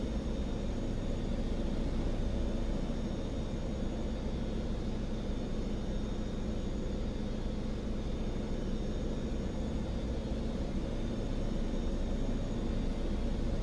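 An Antonov aircraft in Microsoft Flight Simulator, set down on grass, gives a steady broadband engine roar and rumble with no clear change throughout.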